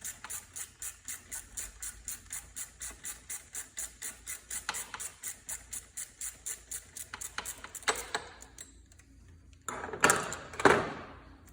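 A 7 mm wrench backs off a fastener on the EGR part of a BMW E70 X5, giving a long run of quick, evenly spaced ratcheting clicks, followed by a few louder, irregular clunks and knocks near the end.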